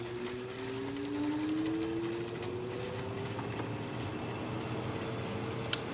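Window air conditioner starting up on low fan on a warm day: a steady, quiet mechanical hum with a slowly rising whine, running continuously with no talk.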